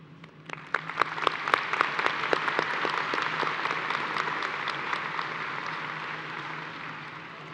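At a high school commencement ceremony, a crowd's applause starts with scattered individual claps that build into a dense, sustained ovation, then gradually eases off, with no speech over it.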